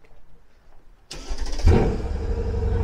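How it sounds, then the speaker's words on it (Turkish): A BMW E36 325 with a turbocharged engine of over 430 hp starts: after a quiet moment the starter cranks, then the engine catches with a loud low rumble and settles into a rough, throaty idle close by. "Çalıştıralım bakalım"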